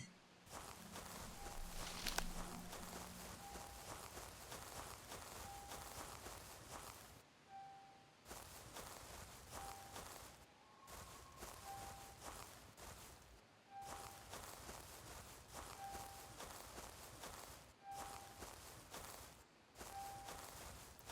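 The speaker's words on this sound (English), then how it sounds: "Thought I've heard some footsteps." Footsteps in the video game Prehistoric Hunt, set in an ancient forest, a faint steady run of soft steps over ground amid low ambient noise, with a brief tonal call early on and a few short gaps.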